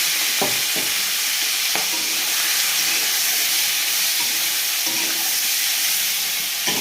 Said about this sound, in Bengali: তেল গরম হয়ে গেছে, শিঙি মাছগুলো দিয়ে দেবো।